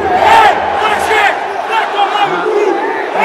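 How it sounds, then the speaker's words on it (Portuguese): Vasco football supporters protest in the stands at the Maracanã during an elimination match against Nova Iguaçu, a dense roaring crowd with shouted chants and jeers rising and falling continuously. "protesto na torcida do Vasco forte"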